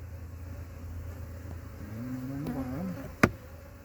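Honey bees buzz around beehives at an apiary during a state inspection, a faint steady drone with one bee passing close and a sharp click near the end.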